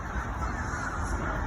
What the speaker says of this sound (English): You looked up and all you saw was all these crows.